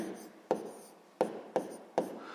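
A pen writes an answer on paper in four short, crisp strokes spaced unevenly across a quiet background, with no voices.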